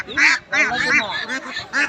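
Ducks at a poultry market in Dhara Bazar, Haluaghat, quacking loudly in several close, harsh bursts, with people talking around them.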